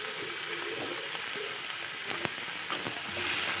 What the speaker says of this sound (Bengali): ভালোভাবে এটা কষিয়ে নিতে হবে, যাতে ঝিঙে থেকে কাঁচা গন্ধ না থাকে।